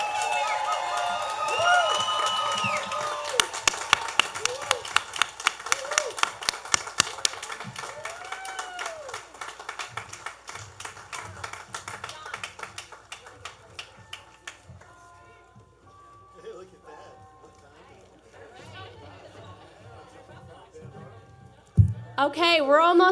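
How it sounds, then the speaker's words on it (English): Applause for graduates at a college commencement ceremony: a large crowd claps and cheers steadily for several seconds, thinning to scattered claps and murmuring, with a voice over a loudspeaker in the hall. "Please stand and give them an applause for our newest graduates."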